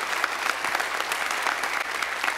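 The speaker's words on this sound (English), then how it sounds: "Please, round of applause." Audience applause after a keynote talk on 5G and networking, a steady dense wash of many hands clapping throughout, moderately loud and even, with no voices over it.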